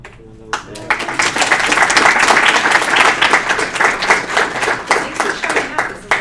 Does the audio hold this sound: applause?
yes